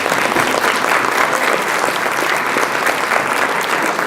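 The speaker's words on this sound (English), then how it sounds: "y'all just give yourself a round of applause tonight" Loud, dense applause from a church event audience, a steady wash of many hands clapping up close with no break.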